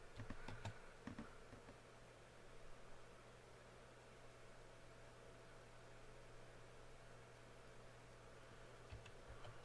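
Soft computer-keyboard typing sounds faintly against a hiss of steady background noise, with a few clustered key taps near the start and end and quieter clicking in between.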